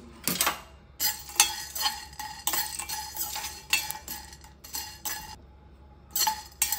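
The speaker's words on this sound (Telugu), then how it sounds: "ఇవి లైట్గా ఫ్రై చేసుకుంటే సరిపోతుందండి" Whole spices and a cut dried red chilli lightly fried in a pan for homemade masala, heard as a run of bright metallic clinks and scrapes of a spoon stirring against the pan, coming in bursts with brief gaps, close and moderately loud.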